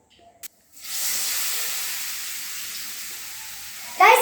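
Banana pieces dropped into hot ghee in a pan, a sudden loud sizzle that starts abruptly and holds steady as a bright hiss, with a brief clatter near the end.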